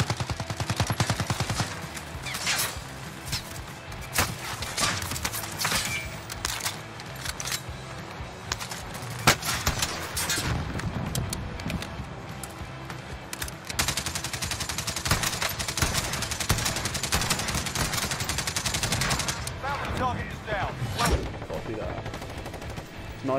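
Near-continuous gunfire in the battle royale game Call of Duty Warzone, with dense rapid automatic bursts and single cracking shots layered over a busy, loud battle soundscape.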